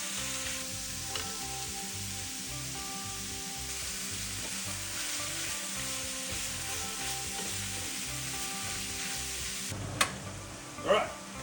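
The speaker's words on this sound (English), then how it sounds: "venison straight in. Now we're just going to brown this up." Venison sizzles steadily as it browns in olive oil in a hot pan for chilli con carne, a constant close frying crackle. Near the end a couple of sharp utensil knocks sound against the pan.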